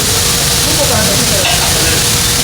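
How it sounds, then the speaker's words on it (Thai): Kobe beef steak sizzles loudly and steadily on a hot restaurant griddle as a chef slices and flips it, a dense continuous frying hiss with faint scraping underneath. "เชฟกำลัง หั่นแล้วก็พลิกอีกด้าน"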